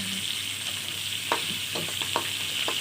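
Vine-dwelling worms fry in a pan of hot oil with a steady, close sizzling hiss that runs unbroken throughout, dotted with a few brief crackles and pops.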